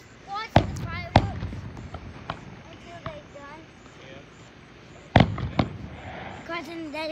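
Fireworks burst outdoors in two clusters of loud, sharp pops with crackling tails, separated by quieter stretches of fizzing and distant bangs; people talk faintly underneath.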